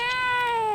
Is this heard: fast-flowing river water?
no